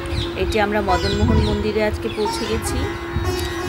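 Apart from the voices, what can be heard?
birds calling at a temple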